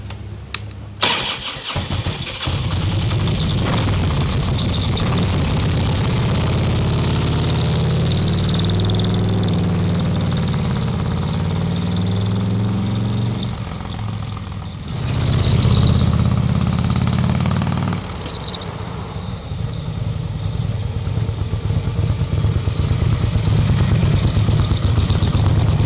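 Motorcycle engine starting with a sharp crank, then idling and revving steadily as a ride sets off, loud and close throughout, with a surge in revs midway before settling back.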